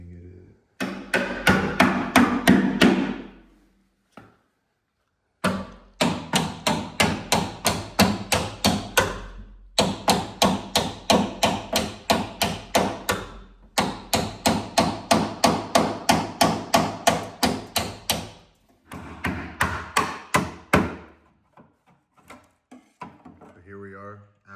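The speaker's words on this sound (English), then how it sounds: "I'm just hammering it in, and then once I get it in a little bit, I'm hammering it side to side" Sharp metallic hammer taps from a weighted hammer on a BMW F30 car roof during a carbon fiber roof swap, in fast, steady bursts with short pauses between runs; close and loud, no talking.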